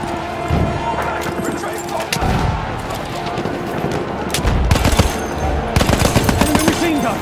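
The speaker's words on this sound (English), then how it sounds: "Enemy machine gun, sight it" Rapid bursts of machine gun fire in Battlefield 1, a German Empire Operations battle in the Argonne Forest, rattling through a busy wartime soundscape with other gunshots and louder, denser volleys toward the end.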